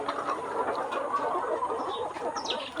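Layer hens on a poultry farm, about 100 to 190 days old, clucking in a continuous murmuring chorus with a few sharper calls rising over a soft barn background, moderately loud and without speech.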